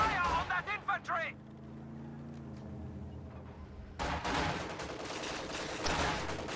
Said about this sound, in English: Get fire on that infantry!